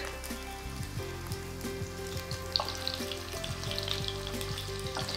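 Chicken meatballs crackle and hiss steadily in hot oil, with a continuous close sizzle and occasional spitting pops, and no voices.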